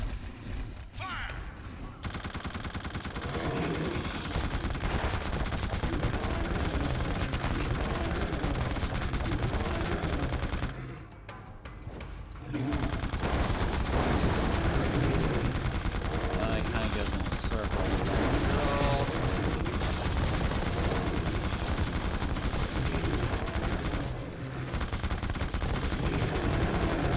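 Sustained gunfire from a firing squad in the video game The Suffering, a loud dense volley running almost continuously with a brief lull partway through, speech faintly mixed in.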